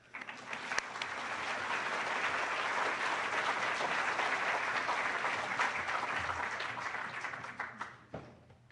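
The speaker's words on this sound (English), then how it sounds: "let's give a round of applause for Sky" Audience applause welcomes a speaker at a campus presentation, a dense, steady roar of many hands that swells within the first second, holds evenly for about seven seconds, then thins out and fades near the end.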